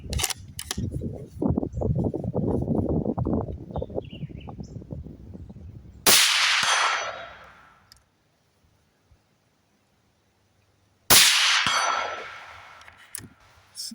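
Two loud suppressed .308 rifle shots, Winchester M80 7.62x51 through a DDC Enticer L suppressor, crack sharply several seconds apart, each with a decaying echo; talk and background noise come before the first.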